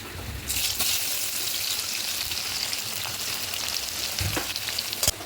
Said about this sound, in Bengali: এবার দেবো এর মধ্যে এই যে কুচনো পেঁয়াজটা তেলের মধ্যে দিয়ে নেবো